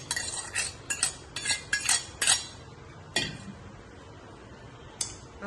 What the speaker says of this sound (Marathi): आता हे नीट व्यवस्थित मिक्स करून घेऊयात